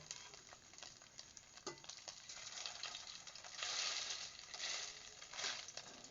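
Homemade longganisa sausage frying in a pan, giving a steady crackling sizzle with brief louder bursts of spatter, heard close up and alone with no talking.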